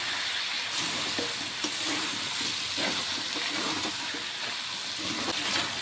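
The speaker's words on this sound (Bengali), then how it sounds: "আলুটিকে দিয়ে মশলার সাথে আরও কিছুক্ষণ কষিয়ে আমি রান্না করে নেব" Potatoes and chicken frying with spices in a pan, a dense, steady sizzle with occasional soft stirring scrapes, close and continuous, with no talk.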